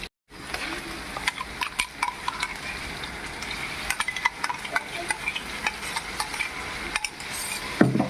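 Onions with ginger garlic paste frying in a pan for veg noodles, a soft steady sizzle broken by sharp scraping and clinking of a stirring spoon, close and alone without voices.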